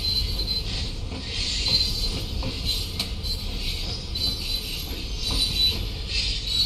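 An old London Underground train braking in the Train Sim World 3 video game on the Isle of Wight line, with steady loud wheel squeal and rail rumble under a faint high whine, no talk.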